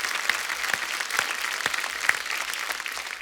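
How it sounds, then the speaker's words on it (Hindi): A studio audience applauds at a Hindi TV comedy show, a steady wash of many hands clapping with a few sharper claps standing out, filling the whole stretch without any talk. "एक बार जोरदार तालियां अवरोध की पूरी टीम के लिए।"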